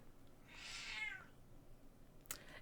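A pet cat gives one clear, drawn-out meow at moderate distance, followed by a brief faint clatter, with no talking in between.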